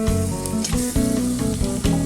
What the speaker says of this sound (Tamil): இப்போ நல்லா தக்காளி நல்லா வதங்கிருச்சு.